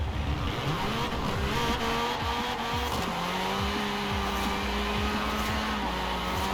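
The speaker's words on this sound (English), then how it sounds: "my rear wheels are spinning forever" A drift car in Forza Horizon with its rear wheels spinning, engine droning steadily at high revs with pitch shifts and tire squeal running continuously, loud and close throughout, no talk.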